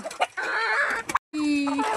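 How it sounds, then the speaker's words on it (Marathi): Chickens and a rooster cluck busily near the listener in a farmyard at morning feeding time, a short pause breaking the run of calls. "तर कोंबड्याला माहिती झालेलं आहे आम्हाला खाद्य येणार आहे"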